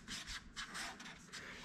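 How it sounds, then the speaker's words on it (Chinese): Hand-sanding an interior wooden door during renovation, a steady rasping rub that repeats in short overlapping strokes, close and fairly loud with no talking. "我再打磨一下吧，把这边打磨下去一点。"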